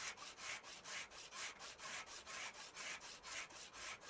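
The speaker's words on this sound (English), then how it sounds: "I'm having to like keep going back over this to get this rust to go away." Rust being sanded off a car body in Car Dealer Simulator, a steady back-and-forth rasping scrape repeating about twice a second with an even rhythm, close and fairly loud, with no voices.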